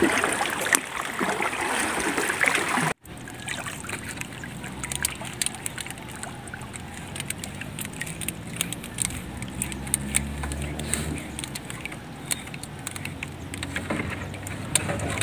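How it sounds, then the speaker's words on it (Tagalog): Heavy rain pours down during a crab-catching trip, a steady broadband hiss and patter with water splashing close by. It runs unbroken for the whole stretch, and no voices are heard over it. "Yung malakas yung ulan."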